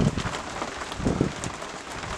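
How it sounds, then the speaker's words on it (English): A heavy sheet of rain approaching a farm during a tornado, heard as a steady, loud hiss of rain with gusty surges and patter close by, with no voices over it. "Look at that rain. The sheet of rain is coming towards us."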